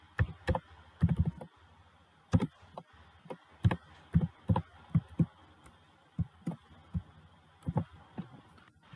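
Typing a short hello world program on a computer keyboard: irregular bursts of close, soft key clicks, some quick clusters and single taps, separated by brief pauses over a faint hum, with no talk.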